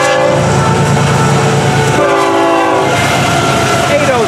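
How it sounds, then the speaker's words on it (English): The fast FEC101 freight train rushes past, its multi-tone horn blaring loud and close in two long blasts over the continuous rumble and clatter of the rail cars. "It's a fast-moving train."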